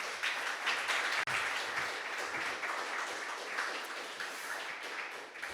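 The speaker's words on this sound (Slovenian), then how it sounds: "En aplavz, prosim." Audience applause at a public announcement of song finalists, a continuous, fairly distant ripple of many hands clapping that stays even for several seconds.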